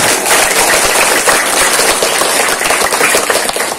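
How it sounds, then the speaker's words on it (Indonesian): A crowd of elementary school pupils claps together in a dense, continuous burst of applause, fairly loud and close, with no speech over it. "Tepuk tangan."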